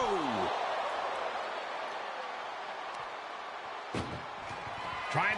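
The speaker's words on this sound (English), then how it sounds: "Trying to at least slam one door shut." An ambulance door slams shut during a WWE wrestling match, giving a sharp metallic bang over a roaring arena crowd, with a second impact near the end. Commentators talk throughout.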